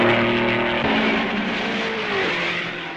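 Mid-1950s Grand Prix race cars, a Maserati among them, roar past on the Spa circuit near Malmedy during the 1955 race, loud continuous engine drone with shifting pitch as cars go by, no talk.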